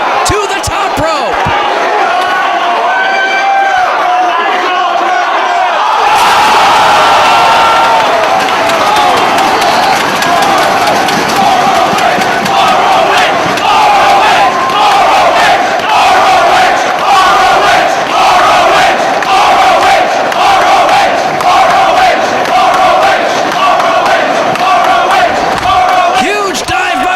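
A large wrestling crowd in Philadelphia roars and cheers for Nigel McGuinness during a match against Bryan Danielson, a loud, sustained wall of shouting that surges up after a quieter opening, with scattered slams and claps throughout.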